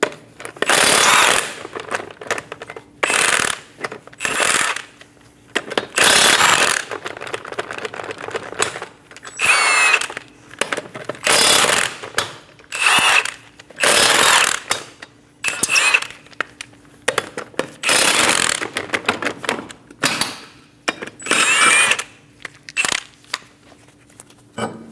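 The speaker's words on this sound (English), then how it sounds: "Using a 21mm socket, remove the 5 lug nuts" A power tool fitted with a 21mm socket removes five wheel lug nuts on a 2008-2015 Scion xB. It makes loud, close, rattling bursts of buzzing impact separated by short pauses, repeated many times with no talking.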